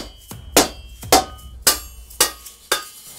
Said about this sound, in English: The hammer is so heavy.